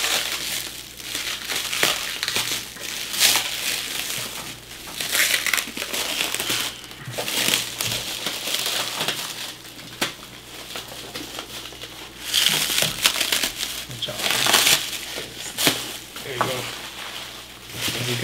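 A knife slices along the side of a cardboard package box during an unboxing, giving a run of scratchy, crinkly cutting and tearing sounds that rise and fall over about eighteen seconds, close by, with no talk over it.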